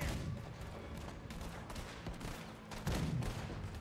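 Distant, muffled gunfire and booms in the video game Red Dead Redemption 2 form a busy background rumble with scattered louder shots, including a stronger burst near the end.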